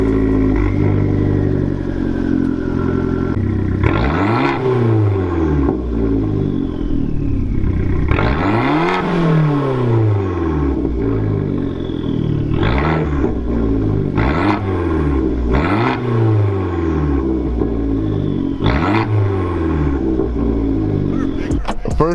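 A cheap Fiat car with air escaping from the back idles loudly and steadily, its engine rumbling with several rising revs that swell and fade over the running drone, no voices present.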